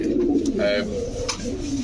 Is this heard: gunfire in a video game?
no